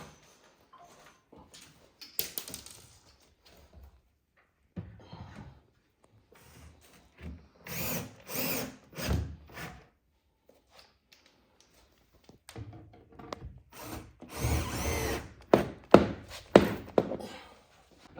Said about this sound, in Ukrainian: І за допомогою конформатів ми, виходить, закручуємо.